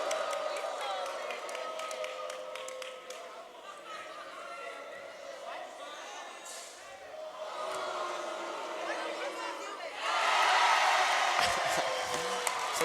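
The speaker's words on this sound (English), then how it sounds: "the student section gives a cheer here as the ball is finally dislodged from the top of the backboard" A high-school student section cheers at a basketball game between Greenwood and New Castle, crowd chatter and voices swelling into a louder burst of cheering near the end as the ball comes loose from the backboard top.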